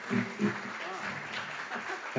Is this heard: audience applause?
yes